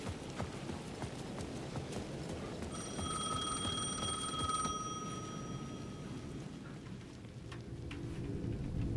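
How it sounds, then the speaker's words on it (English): In the video game Alan Wake II, a payphone at the edge of a plaza rings with a bright electronic trill for a few seconds over steady rain and rhythmic clopping footfalls. "The payphone at the edge of the plaza was ringing again."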